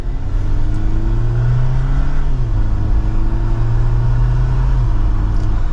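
A 2024 Jeep Wrangler Rubicon accelerates in manual shift mode from second gear, its engine droning loud and close. The pitch climbs steadily, drops at a gear change and climbs again, with no voices over it.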